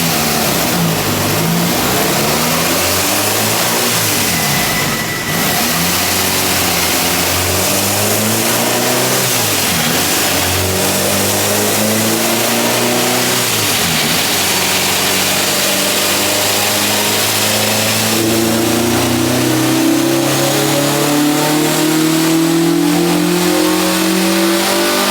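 A Honda Spoon K20a engine with its airbox fitted, in an EG chassis on a dyno, revs steadily through a long pull, its mid-pitched drone climbing in pitch, loud and close with no talk.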